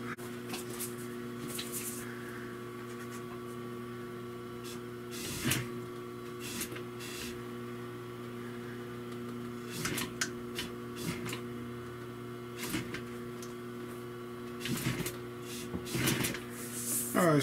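A sewing machine stitches car headliner material for a 1975 Century T-top, a steady mechanical whir with a tonal hum. Short, slightly louder bursts come through as the handle is flipped to lock the stitch.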